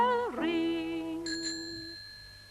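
A single bicycle bell rings once, clear and fairly quiet, its metallic tone lingering briefly after a short sliding tone.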